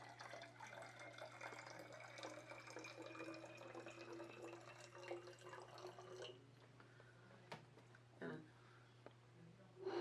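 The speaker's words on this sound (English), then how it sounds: "we'll fill it about halfway full." Water pours into a bottle to about half full, a soft trickling with a thin rising tone under a low steady hum, then the flow stops and a few faint clinks follow.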